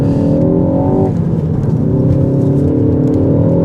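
A Mk4 Ford Focus ST engine revs while driving, loud and close from inside the car, with a steady droning growl that dips briefly as the revs change and then climbs again.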